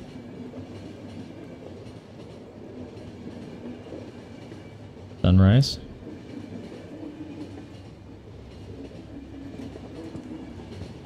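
A train runs in the video game The Final Station, a steady rumbling rail drone with faint wheel clatter, broken midway by a short loud burst; a single word is spoken.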